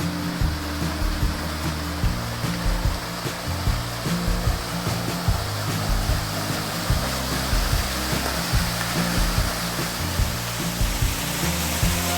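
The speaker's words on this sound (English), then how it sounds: "I just left the trail from Pine Creek for a moment for a little diversion to check out Blue Spring Creek and a waterfall." A waterfall on Blue Spring Creek in Utah, a loud continuous broadband rush of falling water heard up close, steady throughout with no voices.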